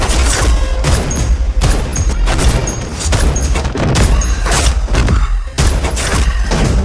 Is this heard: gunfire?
yes